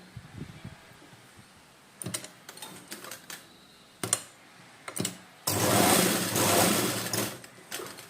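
A tailoring sewing machine stitches a straight practice seam in short bursts, with brief starts and stops and clicks, then a louder sustained run of steady whirring near the end.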